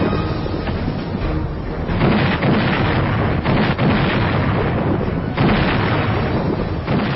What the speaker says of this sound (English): He ordered an unprecedented barrage of heavy artillery.